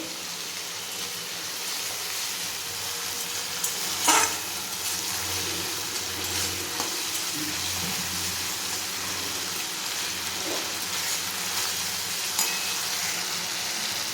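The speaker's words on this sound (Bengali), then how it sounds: "মশলাটা ভালো করে কষিয়ে নিতে হবে" Spice masala for a paneer curry fries in a pan with a steady close sizzle. A spoon stirs and scrapes it now and then, with a few louder knocks.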